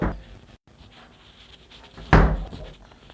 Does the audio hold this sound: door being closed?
yes